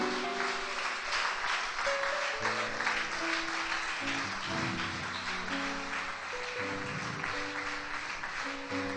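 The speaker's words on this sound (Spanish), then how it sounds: "¿Cuántos pueden dar un fuerte aplauso para nuestro Dios?" A church congregation claps together in a sustained, fairly loud round of applause over steady music, the clapping continuous and dense throughout with no talk.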